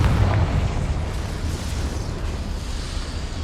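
A Confringo spell explosion in the Hogwarts Legacy video game, a loud blast that bursts at once and rumbles down into a long roaring decay, alone without talk.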